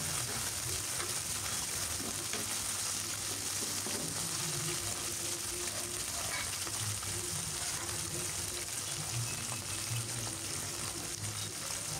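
Chopped onion and green chillies stir-frying in a pan for chicken noodles, a steady low sizzle running throughout with occasional stirring scrapes, no talking.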